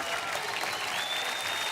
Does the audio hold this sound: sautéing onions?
no